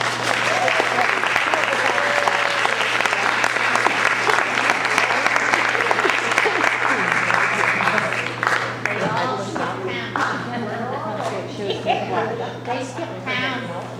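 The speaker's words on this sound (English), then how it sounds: "a warm round of applause for St. John's Men's Orchestra" A banquet audience applauds for St. John's Men's Orchestra, sustained crowd clapping that holds strong for about eight seconds and then thins out, while voices talk and call over the fading end.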